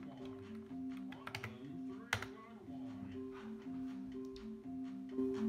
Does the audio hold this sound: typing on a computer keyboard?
yes